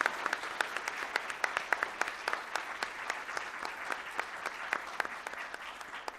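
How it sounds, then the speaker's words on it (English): An audience at an international biotechnology conference in a university department hall applauds, a sustained patter of many hands clapping at moderate distance for several seconds. "Give him a big applause for this biggest one."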